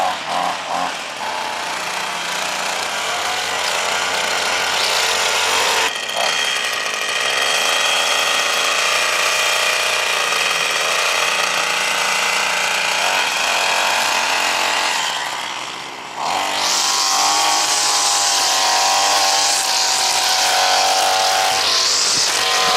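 Wild Badger Power 26cc gas string trimmer running with a loud, continuous two-stroke engine whine that briefly dips near the end before revving back up.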